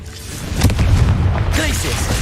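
A booming fire-spell explosion from Hogwarts Legacy, a loud low burst that swells and then sustains with crackling debris, with game voices around it.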